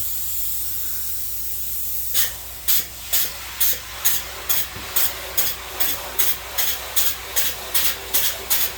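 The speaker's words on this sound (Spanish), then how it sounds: "Eso es spray insulation." Spray foam insulation being applied during a house addition and renovation: a steady hiss broken by about a dozen rhythmic, evenly spaced spray bursts, close and fairly loud.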